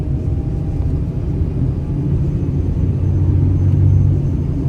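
Deep droning engine rumble from a Cummins diesel tow truck pulling in second gear, heard steadily from the cab with a slight rise in pitch and loudness toward the end.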